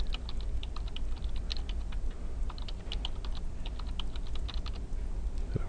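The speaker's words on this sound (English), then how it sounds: "so we're going to type that in here." Rapid, irregular clicking of keys as a username and password are typed on a computer keyboard, close and clear against a quiet background with no talking.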